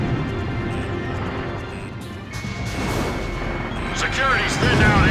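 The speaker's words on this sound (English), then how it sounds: "Enemy tank confirmed destroyed. Laser's missile hit." In the Ace Combat 5 video game, a missile strikes an enemy tank, heard as a heavy rumbling blast under steady engine drone, followed by crackling debris that builds louder toward the end.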